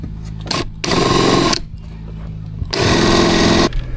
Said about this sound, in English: Sharpened drill bit.